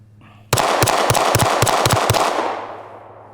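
A Glock V pistol fired during a 1000 round torture test, with a quick string of about eight loud, sharp shots in two seconds, followed by a decaying echo.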